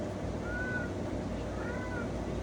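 A pet cat named Talia gives two short, faint meows, spaced about a second apart, over a steady low background hum.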